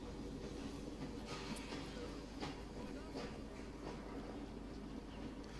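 A steam-era train in Assassin's Creed Syndicate rolls past as a steady, loud rumble with faint rhythmic clacks and hiss, while a voice talks over it.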